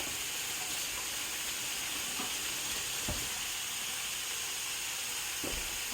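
Pork chops sizzle steadily in a frying pan, giving a constant close hiss with a few soft clicks and pops, and nobody talks.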